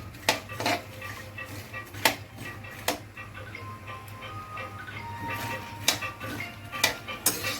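Dry fruits roasting in ghee in a pan for protein dry-fruit laddoos: a spatula clicks and scrapes against the pan in sharp, scattered taps over a low, steady hum, with no talking.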